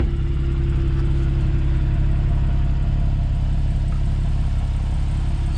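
The 3.4-litre engine of a manual Porsche Cayman S 987.2 running steadily, a loud, close, throaty low rumble that holds constant with no talk over it.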